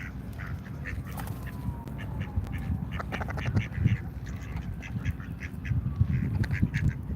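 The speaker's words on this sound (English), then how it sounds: "Oh, we got a land duck over here." A duck gives a run of raspy quacks close by at an outdoor street protest in Washington DC, the calls coming in clusters over steady wind and low background bustle.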